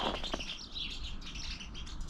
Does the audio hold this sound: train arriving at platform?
no